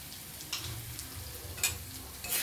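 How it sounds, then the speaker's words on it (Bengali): Spice paste for potol posto frying and being stirred in a pan, a low steady sizzle broken by a few soft scraping strokes, close and quiet with no talking. "ভালোভাবে নাড়িয়ে নিচ্ছি মশলাটা।"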